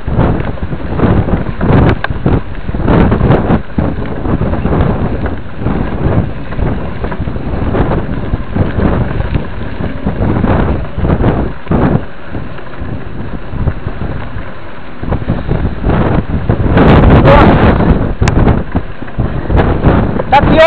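Strong wind buffets the microphone at a mountain lookout on a mountain-bike trail, a loud, constant rumbling roar with gusty surges that swell near the end, while people talk briefly under it.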